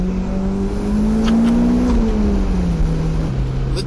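A tuned car with an adjusted fuel pressure regulator accelerates hard, its engine pitch climbing steadily then stepping down through a shift, loud and close with road rumble beneath.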